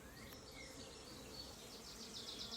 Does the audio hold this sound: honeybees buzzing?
yes